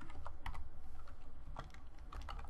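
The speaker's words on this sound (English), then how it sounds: "We're going to type in public JSON result" Rapid, continuous typing of code on a computer keyboard, close and steady, with dense clattering keystrokes and no talking.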